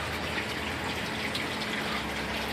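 Water trickles and flows down through a backyard aquaponic tower system into its collection base, a steady close splashing gush with no voices.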